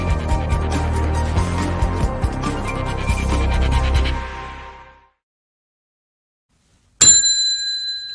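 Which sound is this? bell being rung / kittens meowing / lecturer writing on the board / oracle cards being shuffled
bell being rung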